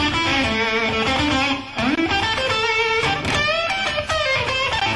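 Distorted electric rock guitar runs through the A blues pentatonic scale with bends and finger vibrato, loud and saturated, the notes sliding and sustaining without any talking.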